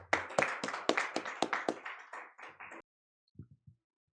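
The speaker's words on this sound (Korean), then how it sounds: "실장님을 큰 박수로 환영해 주시기 바랍니다" An audience at an economics forum welcomes a speaker with a short round of sparse, distinct hand claps. Each clap is audible on its own, and they thin out and stop, followed by a few faint taps.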